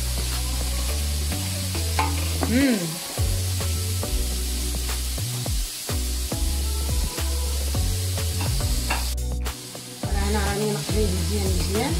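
Carrots and sliced leeks simmer in a pot for fish soup with a continuous close sizzle and occasional stirring scrapes. Background music plays throughout, and someone briefly murmurs.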